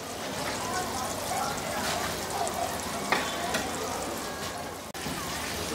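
Eggplant slices fry in shallow oil, half submerged in a pan, giving a steady, even sizzle and crackle that runs throughout at moderate level, with a brief clatter midway.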